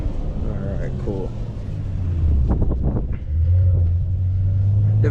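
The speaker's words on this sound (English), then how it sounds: "Hear the turbo?" A Maserati Ghibli S turbo engine drones steadily during driving, its low hum rising in pitch and swelling louder midway, with a voice speaking briefly over it.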